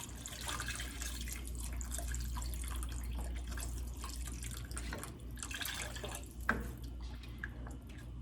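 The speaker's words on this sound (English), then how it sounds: "I am going to add at least half a can of water." Water poured from a can into a pot of chicken okra gumbo with diced tomatoes, a steady continuous splashing pour lasting several seconds with one brief sharper splash near the end.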